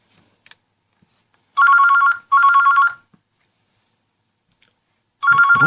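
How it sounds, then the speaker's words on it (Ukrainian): A Nokia 9110 mobile phone ringtone plays in two short bursts, a pause, then starts a third time, loud and close with quiet gaps between. "Хтось дзвонить."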